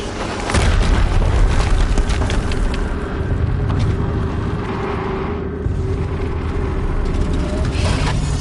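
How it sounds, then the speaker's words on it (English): Booming explosions in a PS4 video game, deep rumbling blasts that roll on continuously, with several sharper bursts rising and fading across the stretch. "Another explosion."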